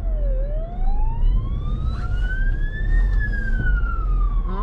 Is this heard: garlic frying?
no